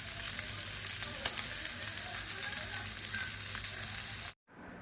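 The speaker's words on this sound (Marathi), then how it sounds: "फिश पण छान फ्राय होत आहे." Fish frying in a pan crackles with a steady close sizzle, a few sharper pops breaking through before it cuts off briefly near the end.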